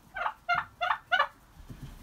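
Rescued turkeys giving four quick, evenly spaced chirping gobbles up close, followed by softer low clucks and shuffling.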